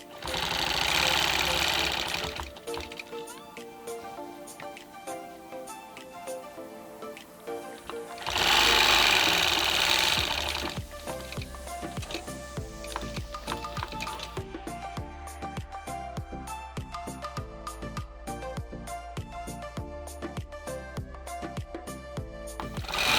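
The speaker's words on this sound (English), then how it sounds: "So here you see me stitching in the ditch, the diamond area and the star area." A quilting sewing machine stitches in the ditch on a custom quilt with a fast, continuous mechanical clatter of the needle, loud and close, speeding up and slowing in bursts throughout.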